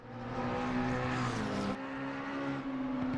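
A race car engine at the Nordschleife during a 12-hour endurance race roars steadily and loud, a sustained high-revving drone that shifts pitch partway through as the car passes.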